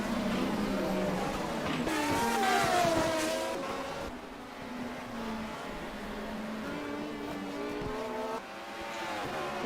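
Prototype race car in a Le Mans-style racing video game rejoining the track, with a loud engine note rising and falling through the gears and some tire noise, under a commentator talking.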